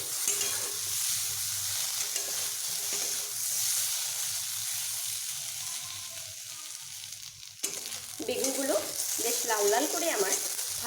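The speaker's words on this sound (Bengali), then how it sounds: "বেগুনগুলো একটু বেশ লাল লাল করে ভেজে নেব" Eggplant pieces fry in oil in a kadai with a steady, close hiss of sizzling that stays even throughout, joined near the end by a voice talking over it.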